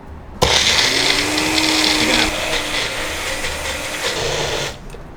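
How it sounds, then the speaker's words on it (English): A kitchen blender whirs as it purees vegan carrot top pesto with nuts, garlic, nutritional yeast and lemon juice, starting abruptly, running loud and steady for several seconds with a slight drop in pitch midway, then cutting off. "add it to your blender"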